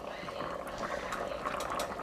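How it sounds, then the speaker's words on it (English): Pot of pinto beans boiling, a dense steady bubbling and gurgling that stays moderately loud and unbroken for the whole short stretch. "it's been boiling for exactly 1 hour"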